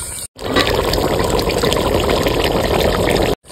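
Reserved spice water poured into a pan of well-fried chicken curry, a loud steady rushing gush of liquid for about three seconds, stopping abruptly.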